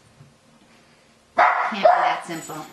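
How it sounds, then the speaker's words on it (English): A dog barks and yelps close by in one short burst, joined by other animal noise, following a few quiet spoken words. "That sound is the dog and then my rabbits."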